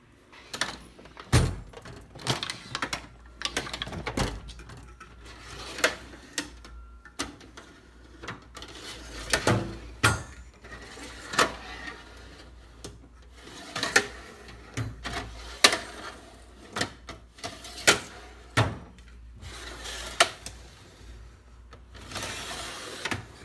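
Drawers of a Harbor Freight 72-inch toolbox, some on smooth ball-bearing slides and some skinnier ones without, slide open and shut repeatedly, with rolling rumbles, sharp metallic clunks and rattles at irregular intervals, close up and with no talk.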